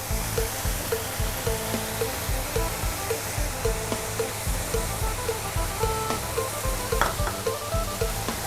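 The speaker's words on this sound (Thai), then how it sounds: "ต่อไปก็ผัดให้เข้ากันนะคะ" Spicy field rat stir-fried with chillies, torn kaffir lime leaves, green peppercorns, shallots and sliced fingerroot, a steady loud sizzle with rhythmic scraping and stirring strokes, close up and with no talking.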